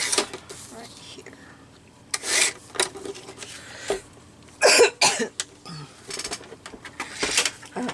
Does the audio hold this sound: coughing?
yes